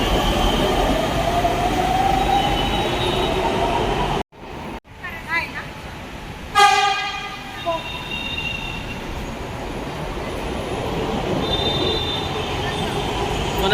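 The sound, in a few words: Pune Metro trains passing in underground station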